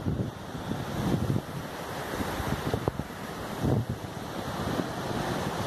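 Surf rolls in steadily on the beach at Ponta Grossa, Capuí, Ceará, as gusty wind buffets the microphone, with louder wave surges and no voices.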